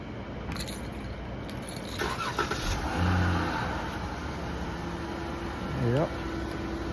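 Keys jangle before a 2019 Chrysler 300 engine cranks, starts and revs up, settling into a steady idle nearby while someone talks.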